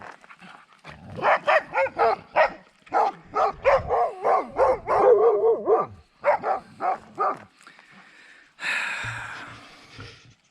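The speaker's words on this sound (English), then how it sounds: "Barking at the horses 2 miles away." A ranch dog barks repeatedly in quick bursts, fairly close, at distant horses, followed by a couple of more spaced barks and a short whiny yelp at the end.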